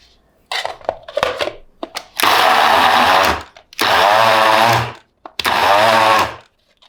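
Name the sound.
grinding herb kofta mixture in a grinder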